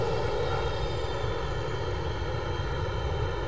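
Jet aircraft engines in the Metalstorm video game, an A-6 Intruder among them, give a steady, loud, dense roar with a low rumble and constant tonal whine throughout, with no voices.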